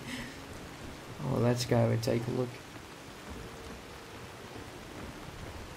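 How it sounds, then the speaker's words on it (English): Steady rain hisses as a constant broadband wash in the Mount and Blade Warband mod A World of Ice and Fire, with a man's brief speech over it partway through. "I can hear the rain,"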